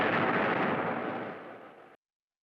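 A loud, sustained explosion blast with a rumbling broadband roar that decays over about two seconds before cutting off abruptly into silence; no voices.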